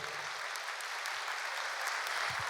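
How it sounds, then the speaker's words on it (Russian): Concert-hall audience applauding the finalists of a children's music competition on stage, a sustained, fairly distant roar of clapping with no break. "Ваши бурные аплодисменты для них!"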